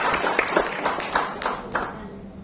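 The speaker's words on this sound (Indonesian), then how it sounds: "Tepuk tangan dulu biar enak." An audience at a pharmacy health talk claps in a loose, rhythmic burst, with repeated hand-clap accents spread over a couple of seconds under a busy room murmur.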